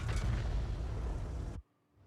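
An artillery shell strikes a tank in World of Tanks. A heavy, low rumbling blast fills the first second and a half, then cuts off abruptly into near silence.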